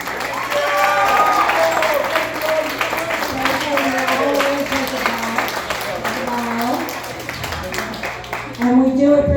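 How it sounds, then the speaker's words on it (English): An audience gives a sustained round of applause at the end of a live show, dense clapping with some cheering, while a voice speaks over it near the end. "Can we give them all a round of applause?"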